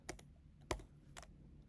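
Three separate keystrokes on a computer keyboard while writing code, each a crisp close click spaced roughly half a second apart against a quiet room.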